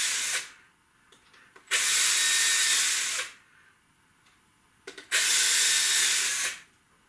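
A power drill whirs through Palram Palight plastic board in two separate bursts of about a second and a half each, close and fairly loud, with quiet pauses between.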